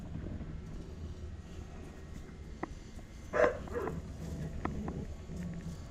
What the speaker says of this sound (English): This is our new dog pound rescue from the sheriff's impound lot.